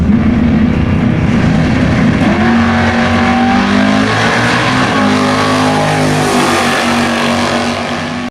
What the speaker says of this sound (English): David, another big cubic inch version. Running the restrictor plate.